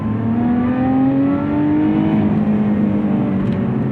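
A 2024 Lotus Emira engine revs steadily upward toward its red line, a loud, close, continuous rising drone with strong harmonics holding for several seconds before easing slightly, with no voices over it.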